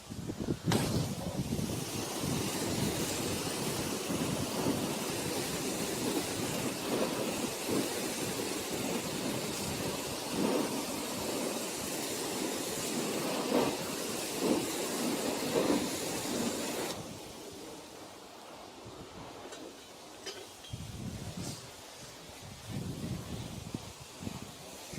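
A self-service car wash spray rinsing a car, a loud steady hiss of pressurized water lasting about seventeen seconds before it stops abruptly, followed by quieter dripping and handling sounds.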